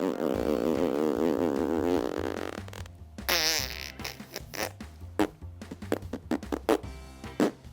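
A person imitating farts with their mouth: a long buzzing, wavering blurt, then a run of short sputtering pops and bursts, close and loud, with no other talk.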